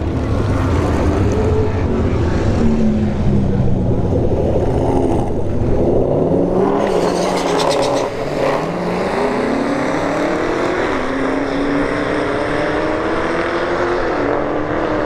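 A Hellcat Dodge Charger and a 5th-gen Chevrolet Camaro SS drag racing at ShowTime Dragstrip: loud, sustained engine roar with rising revs and sharp pitch drops at gear shifts, heard close and unbroken.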